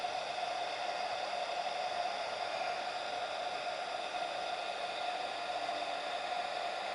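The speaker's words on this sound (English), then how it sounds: "I'll heat that area up with a heat gun." A heat gun blows hot air onto a dented area, giving a constant steady whoosh with a fan hum, close and even for the whole stretch with no talk.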